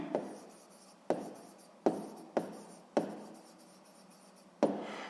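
A pen writes on paper in a 6th-grade maths exercise, heard as six short, crisp scratching strokes spaced about a second apart, each fading quickly into near silence.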